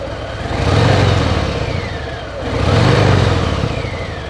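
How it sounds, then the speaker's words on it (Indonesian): A Harley-Davidson Fat Boy 114 engine with stock exhaust revs twice, each rise swelling to a throaty roar then easing off, with a steady low rumble throughout and no talking. "untuk knalpot yang standar ini suaranya juga"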